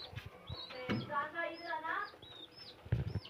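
Hens cluck in short bursts while a chick gives thin high peeps, heard close but fairly quiet. There are a few soft knocks of movement.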